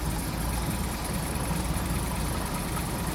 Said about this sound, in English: Nice smooth running truck